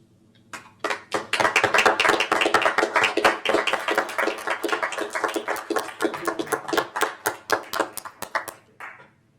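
Attendees at a council meeting applaud together, starting with a few scattered claps, then swelling into steady, fairly close group clapping that thins out again toward the end.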